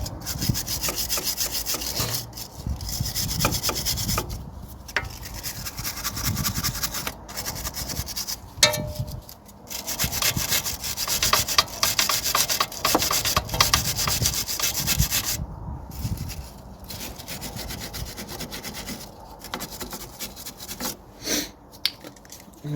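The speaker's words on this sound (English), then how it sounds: "A bit rusted up, so give them a good wire brush off." Rusty bolts on a Vauxhall Astra J front suspension get a vigorous wire brushing, a rough, uneven scratching rasp in bursts with short pauses, loud and close, with no voices.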